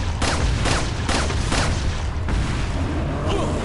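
Rapid gunfire from Resident Evil 4 on PS4, a loud series of about six booming shots at roughly half-second intervals over a dense, continuous game soundscape.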